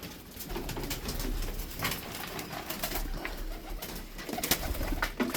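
Black-tailed tippler pigeons cooing and murmuring close by in a flock, with rustling and occasional wing flaps over a busy, continuous bird chatter.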